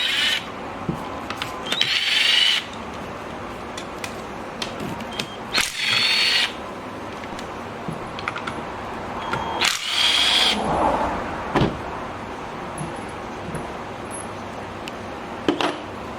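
A power tool spins out the four bolts on the shift motor of a Borg Warner 4446 transfer case in three short, loud, whirring bursts, with quiet workshop handling noises between them.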